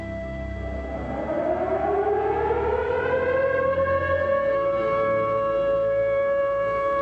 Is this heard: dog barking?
no